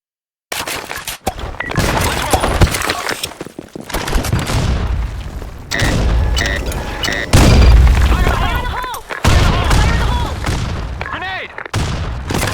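Grenade blasts and bursts of gunfire erupt in the shooter game BlackShot on the Sandstorm map, loud booms and rattling volleys crowding one another, with in-game voice callouts mixed among them.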